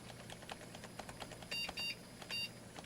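A Lenovo 3000 H210 desktop computer beeping during boot, with a few short electronic beeps over faint clicking and a steady background hum.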